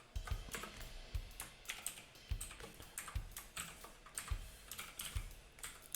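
Keys clatter on a computer keyboard while C# code is being written, coming in quick bursts of clicks with short pauses between them at close range, and no voice is heard.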